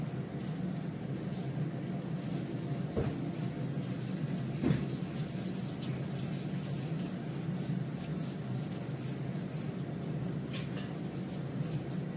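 Tap water runs steadily into a kitchen sink while fish is rinsed clean, a broad continuous splashing hiss with a couple of brief knocks.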